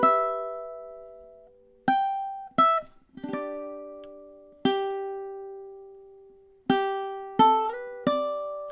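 A ukulele plays the opening stanza of Wish You Were Here, with separate plucked notes and strums ringing out in an uneven melodic rhythm, clean and close with no other sound.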